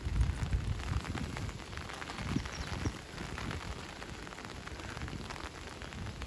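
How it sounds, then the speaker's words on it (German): Rain falling on an umbrella in a forest, a soft, continuous patter of drops with irregular taps, fairly quiet. "wenn der Regen auf den Schirm fällt, auf den Waldboden"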